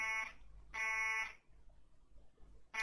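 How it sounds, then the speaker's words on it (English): An electronic alarm goes off in Wyoming 2, sounding in two long harmonic beeping bursts separated by a short gap, with a third burst starting at the end over quiet background noise. "And then they start hearing the alarm."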